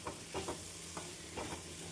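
Grated coconut is stirred and fried with onion and tomato for chutney in a pan, giving a soft, steady sizzle with a few quick scraping stirs of a spoon, close and quiet, with no voices.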